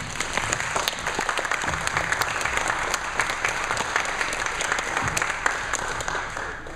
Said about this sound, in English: we'd like you to please stand up so that we can give you a round of applause